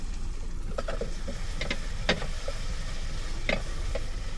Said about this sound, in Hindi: अभी प्याज भूनने के लिए रख दिया है, तो प्याज भून रही है